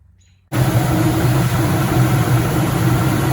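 After a brief quiet moment, a Toyota Tacoma pickup truck engine, freshly filled with oil, abruptly catches and settles into a loud, steady, rumbling idle close by.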